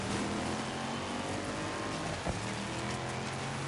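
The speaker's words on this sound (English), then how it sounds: "I can hear the car engine. Sweeping, like, from the left side to the right in my headphones" Racing car engine in the PS5 rally game DiRT 5, a loud continuous roar with gritty road and spray noise and a brief thump partway through, no talk.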